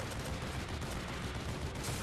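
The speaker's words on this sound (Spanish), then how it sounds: "Otra vez a subirlos a la ametralladora." Dense, continuous rapid machine-gun fire from a video game roars without a break, loud and unrelenting, with no voices over it.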